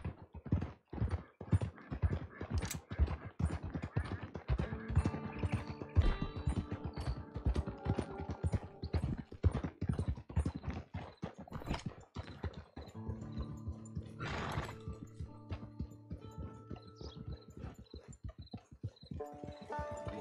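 Steady clip-clopping of horse hooves on hard ground in the video game Red Dead Redemption II, a fast even rhythm at moderate distance, with faint tonal background music underneath.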